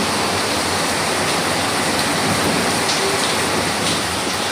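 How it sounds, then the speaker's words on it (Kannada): Heavy rain pours outside a window in a dense, loud, continuous roar of falling water, with no pauses and no voices. "ಸಖತ್ ಮಳೆ ಬರ್ತೈತೆ"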